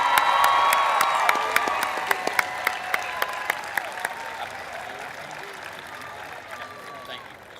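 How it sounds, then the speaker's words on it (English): High school graduation crowd applauding honor graduates, with sharp individual claps standing out over a broad wash of clapping and cheering that gradually fades. "Let's give a round of applause for all of our honor graduates."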